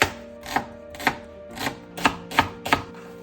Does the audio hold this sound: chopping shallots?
yes